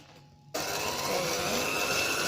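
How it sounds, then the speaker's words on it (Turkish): An electric mixer whipping milk kicks in abruptly after a brief quiet moment, then holds a loud, steady, close-up whirring drone until the end. "Biz bunu mikserle çırpacağız."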